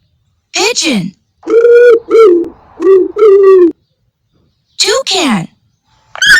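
A pigeon coos in a children's animal sounds collection, giving several soft, low, rounded coo phrases in close succession, framed by short higher bird calls at the start and end.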